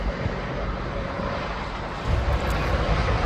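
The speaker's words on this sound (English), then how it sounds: "It's a 21-year-old aircraft." A 21-year-old Jet2.com passenger jet at East Midlands Airport, heard as a steady, distant engine roar that swells slightly toward the end, with no voices over it.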